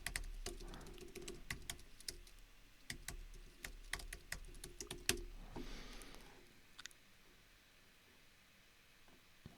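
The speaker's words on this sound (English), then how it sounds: "I don't want you guys to see my password when I type it" A computer keyboard being typed on as a password is entered, with quick irregular clicks in bursts, fairly close and fading toward quieter isolated taps near the end, with no talking.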